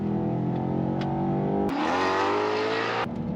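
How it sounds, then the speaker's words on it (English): A Maserati GT engine drives tight, winding canyon roads, loud and close with a steady drone that climbs in pitch, then drops abruptly at a gear shift and pulls up again before another shift. "Driving a Maserati through a canyon in tight winding roads is really what this car was designed to do"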